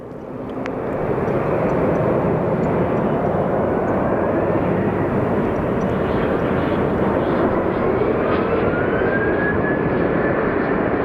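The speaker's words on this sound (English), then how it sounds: "we have another small private jet coming in." A small private jet, likely a Cessna Citation, arriving at Phoenix Sky Harbor Airport, its loud steady engine roar with a rising whine filling the air continuously.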